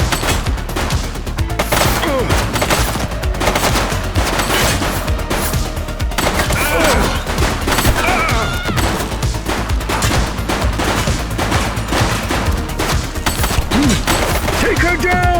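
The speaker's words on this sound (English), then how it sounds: "She's shooting!" Gunfire in a police shooting video game, a dense continuous barrage of rapid shots and impacts with loud crashes, while voices shout over the action.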